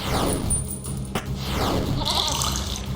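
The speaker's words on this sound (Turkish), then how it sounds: "Keçi." A cartoonish goat bleats in the puzzle video game There Is No Game, giving a wavering cry near the start and another toward the end, alongside watery game effects.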